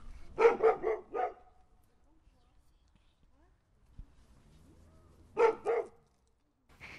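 A dog barks in a park in two short bursts of several quick, loud, close barks, separated by a quiet stretch, with a faint further yip at the end.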